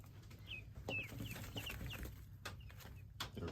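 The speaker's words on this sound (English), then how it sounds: "The guinea hens are getting a lot bigger." Guinea hens give soft, repeated short clucks and chirps at close range over a quiet low hum, several calls in quick, irregular succession.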